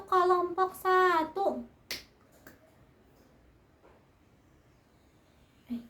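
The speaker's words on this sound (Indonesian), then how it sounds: "Tepuk wow, kasih wow ya untuk kelompok 1" Elementary school class chanting together in a sing-song voice, then a few sharp claps or snaps for group 1, followed by a quiet room with occasional faint taps.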